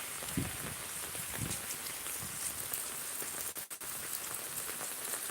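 Rain falling in a thunderstorm in the eastern Miraj area, a steady dense hiss of drops hitting surfaces with a few nearby splashes, continuous and fairly close, no voices.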